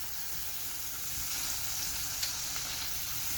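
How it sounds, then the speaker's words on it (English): Peas and carrots sizzle steadily in a hot pan while being stirred, a constant close frying hiss with faint scraping, no talking. "You can go the peas and carrots. And stir them around."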